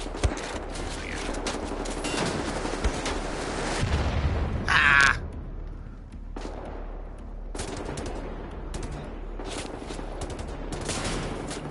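Gunfire in the video game Wolfenstein comes in loud rapid bursts of automatic fire and single cracks, with a sharp, brighter report midway and short pauses between volleys.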